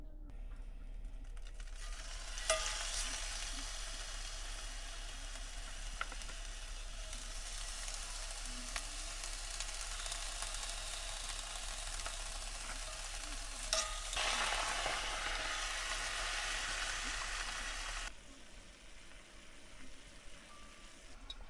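Pre-cooked sous vide beef sirloin heating on a cast iron pan gives a steady, even sizzle that runs unbroken for most of the stretch, then cuts out near the end, leaving faint background noise.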